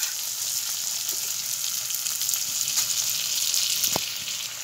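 Jackfruit seeds fry in oil in a pan with a steady, close hiss and crackle, broken by a few faint scrapes as they are stirred, including one sharper knock near the end.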